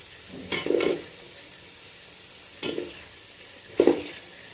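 Food sizzles and is stirred in a pan, three short bursts of frying and scraping, moderately close, separated by quiet gaps.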